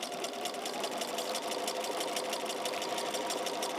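A sewing machine stitches a layer-cake quilt block, a steady rapid mechanical chatter running close and unbroken throughout with no talking.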